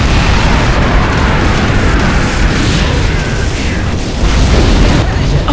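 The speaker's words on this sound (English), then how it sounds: "Blue power node destroyed." A power node exploding in Unreal Tournament 2004 during a chaotic Onslaught match. A dense, loud roar of blasts and rumbling runs the whole time, with game voices speaking over it.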